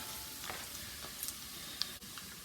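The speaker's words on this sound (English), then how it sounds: "I love the smell of bacon frying." Bacon sizzling and frying in a pan after browning, a steady soft crackle with scattered small pops, fairly quiet and alone without talk.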